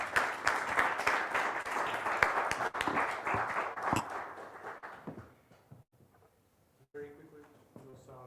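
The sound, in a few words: audience applause for the guests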